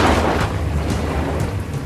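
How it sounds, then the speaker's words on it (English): Heavy rain pours down in a rainstorm while thunder rumbles low and steady, a dense, loud wash of noise with no voices. "I'm in a rainstorm"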